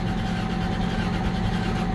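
A 2005 Lexus IS300 engine cranks without catching, with a steady low mechanical churn and drone that stays unchanged from start to finish, no voices over it.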